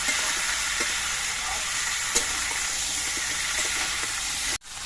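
Steady sizzling of taro stolons frying in hot oil, with a few faint pops and clinks, ending in a sudden brief cutoff.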